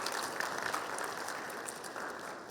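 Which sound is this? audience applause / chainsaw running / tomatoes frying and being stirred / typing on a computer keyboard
audience applause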